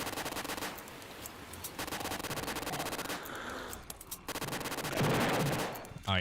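Repeated heavy explosions and dense automatic gunfire from the video game Final Stand 2, a near-constant battle din with mortar impacts bursting through it, ending in a loud swelling blast; no clear talk.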